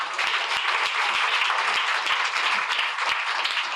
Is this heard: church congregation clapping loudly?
yes